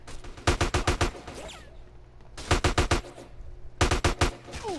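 Gunfire in the video game GTA San Andreas comes in three rapid bursts of about five or six loud shots each, separated by short pauses with faint background game noise.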